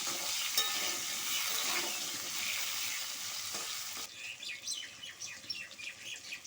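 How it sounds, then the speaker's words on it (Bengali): Pointed gourd pieces fry in hot oil, a steady close sizzle that later turns crackly and spattery, with faint chirping in the background; no voices. "আমি তেলের মধ্যে দিয়ে দিচ্ছি আবার পটলগুলো আমি লাল লাল করে ভেজে নেব"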